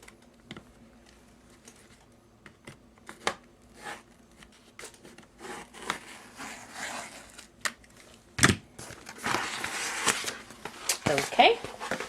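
Scissors cut through a rhinestone transfer sheet for a graduation cap topper, with soft crinkling snips and rustles that build into denser, louder cutting and handling noise toward the end, close up and without speech.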